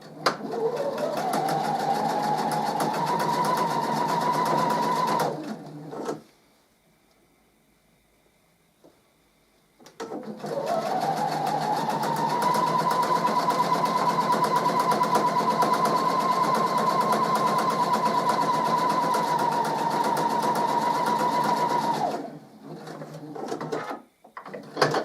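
A sewing machine sews patchwork squares in two long, even runs with a pause between. The whirring motor climbs in pitch as it speeds up and then holds steady, close and clear.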